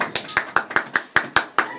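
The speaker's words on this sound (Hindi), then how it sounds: "इनके लिए भाई जोरदार तालियां" A run of about eight sharp, evenly spaced hand claps rings out at a festive celebration gathering, quick and fairly loud, with no other sound between the strokes.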